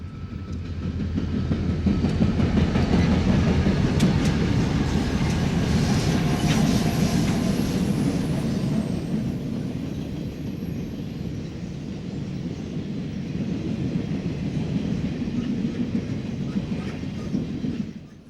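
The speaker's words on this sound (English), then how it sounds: "What is arguably Conrail's hottest train is next at 11:35 p.m. on the Chicago line." A Conrail freight train rumbles past at close range on the Chicago line at night, a steady heavy roar with rattling wheels that eases slightly toward the end.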